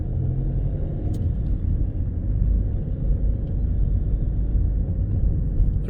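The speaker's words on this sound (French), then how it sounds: "Allez, on accélère." Car accelerating during a driving lesson: a steady, close low engine rumble with road noise swelling slightly as speed builds, heard from inside the cabin with no talking.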